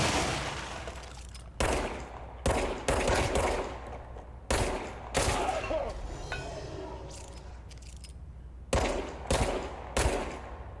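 Bursts of automatic gunfire from the video game Control ring out in a dozen sharp, loud volleys at irregular intervals over a steady low ambient hum, with no talking.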